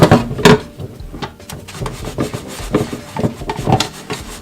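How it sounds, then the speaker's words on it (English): A soapy sponge scrubs the outside of a deep fryer in a home kitchen, giving repeated close, uneven rubbing and scraping strokes with small knocks, no talking. "Get your sponge soaped up and just scrub."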